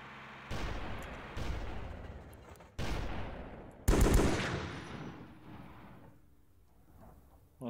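Gunfire in the game SG HmS Oblivion: several loud bursts of automatic fire separated by short pauses, each with a decaying echo, the heaviest burst near the middle, and no speech.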